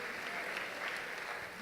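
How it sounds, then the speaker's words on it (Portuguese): A church congregation applauds during a worship service, with soft, steady, continuous clapping from a crowd heard at some distance. "Pode dar uma salva de palmas ao Senhor."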